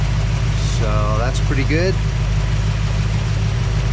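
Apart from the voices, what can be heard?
car engine revving up while burping radiator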